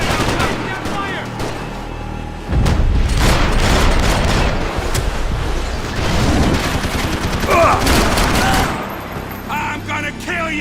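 Gunfire in Max Payne 3 played on an Xbox Series X, sustained loud rapid shots and bangs with shouting in-game voices over and between the bursts.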